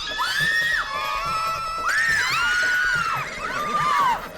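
Several people shout and scream loudly in an excited indoor commotion, high shrieking cries rising and falling in overlapping bursts over a busy crowd hubbub.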